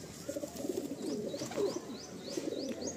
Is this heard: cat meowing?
no